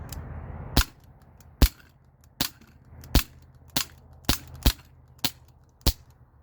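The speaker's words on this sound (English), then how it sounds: "So I'm just gonna dump on this thing from right here." A Glock 19 replica CO2-powered .177 BB pistol fires rapidly at a can from about 15 feet: nine sharp, snappy cracks at a fairly regular pace, each isolated against near silence.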